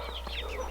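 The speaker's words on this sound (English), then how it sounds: "This is what 200 chickens looks like." Around two hundred homestead chickens cluck and chatter together in a dense, close, continuous murmur of overlapping bird calls in a brief burst on a frosty farm.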